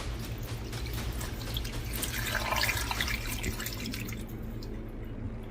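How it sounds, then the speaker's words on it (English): Water poured into a crock pot over beef fat for wet-rendering tallow, a steady close splashing and trickling that runs throughout, swelling briefly midway before easing off. "you want to add, since we're doing the wet render method, about 7 to 8 cups of water"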